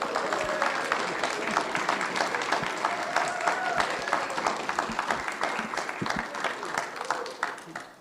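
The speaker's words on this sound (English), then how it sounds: "So please join me in a round of applause of welcome her." A church congregation breaks into sustained applause to welcome a new member: dense, even clapping from many hands that holds steady for several seconds before tapering at the end.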